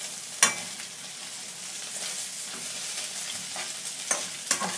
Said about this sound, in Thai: เสร็จแล้วก็จะใส่เส้นลงไปผัดนะคะ